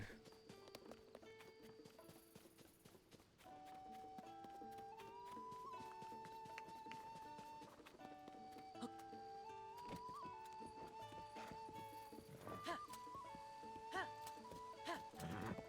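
Horse hooves clip-clopping at a steady gallop in The Legend of Zelda: Tears of the Kingdom, a continuous rhythmic trot layered under music and game sound effects.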